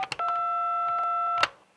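Telephone dialing tones from an automated phone line: a short run of quick keypad beeps, then one long steady dual tone and a final burst of beeps, clear and close with no talking.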